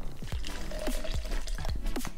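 Coconut water is poured into a glass over coconut cream ice cubes for a coconut cocktail, giving close, gurgling splashes with repeated glugs and drips and no talking.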